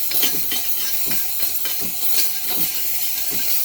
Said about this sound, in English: we're going to run some steam on it so we could clean this part of it